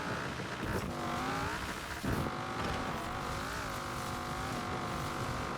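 A limousine driving uphill in Forza Horizon 4, its engine droning steadily with rising and falling pitch as it pulls, a brief dip and rough burst midway, loud and close with no talking.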